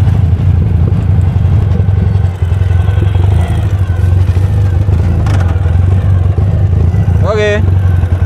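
A 2017 Ural Patrol sidecar motorcycle idles loudly up close, its engine a steady low throb with clattering mechanical noise and a brief rising rev toward the end, with speech partly over it.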